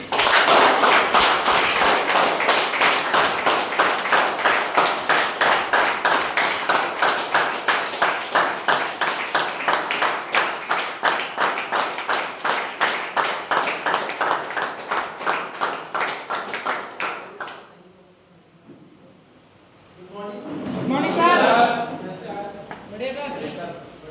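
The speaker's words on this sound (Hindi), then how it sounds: "ये एक बार जोरदार ताली दीजिए सबके लिए" An audience claps in strong, unified rhythmic beats at a fast steady pace for about eighteen seconds, then stops, and a voice speaks afterward.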